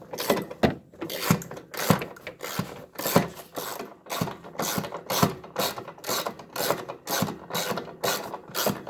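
Hydraulic line fittings on a John Deere 4110 tractor being worked loose with a ratcheting wrench, giving a close, steady run of rhythmic ratchet clicks and grinding metal strokes with no voices.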